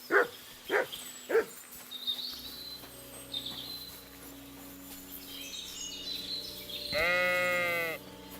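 Sheep in Kingdom Come Deliverance II, three short bleats close by at the start, then soft game ambience and a long, loud, wavering bleat near the end.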